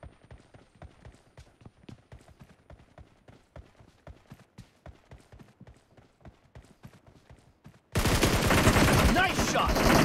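Gunfire in the mobile game PUBG Mobile, a long run of rapid, evenly spaced clipped shots at moderate level, followed abruptly by a loud dense burst of noise for the last two seconds.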